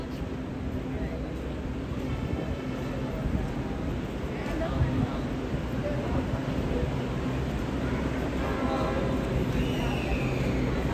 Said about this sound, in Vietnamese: Tiếng metro nha.